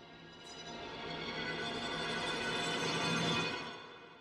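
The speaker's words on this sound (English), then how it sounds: "so that's Tremolo, fast bowing, CS Concertino, Sul Pont on the bridge" Tremolo sul ponticello strings from Spitfire Cinematic Frozen Strings hold a single chord with fast bowing near the bridge, creeping in softly, swelling, then fading.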